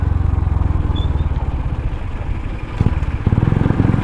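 Road traffic in a rural Batangas village rumbles close by, a motorcycle engine chugging loudly and steadily, with another engine passing near the end.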